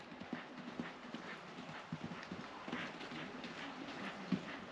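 A pony's hooves clip-clop at a steady walk during a horse show, soft regular thuds over faint outdoor background noise.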